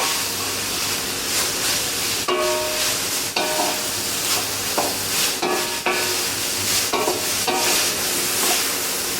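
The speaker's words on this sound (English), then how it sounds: "So you can see I'm continually stirring." Spring onions and mixed vegetables sizzle loudly in a hot pan while being stirred continuously, a steady dense frying hiss broken by scraping and clattering of the utensil against the pan.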